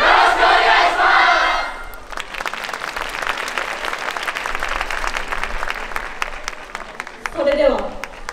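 A crowd at a yosakoi dance performance in an outdoor park music hall cheers and shouts loudly, then breaks into sustained applause, with a voice calling out near the end.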